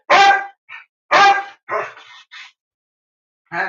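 A dog barks loudly and close by, two heavy barks followed by shorter yips and whimpers in an uneven rhythm, then one more bark after a pause.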